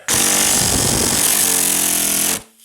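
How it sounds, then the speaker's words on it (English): A small power ratchet whirring loudly and steadily for about two seconds while trying to remove sway bar fasteners on a Ford Contour/Mercury Mystique rear subframe, a close continuous motor whine that stops abruptly. "Let's see if the little ratchet can grab them."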